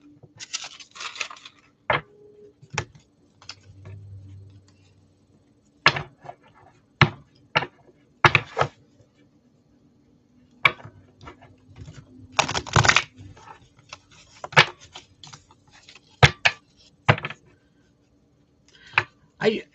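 Oversized tarot cards are shuffled by hand in a series of scattered soft clicks and flutters with pauses between bursts, close and fairly quiet, while a faint voice sometimes speaks in the background.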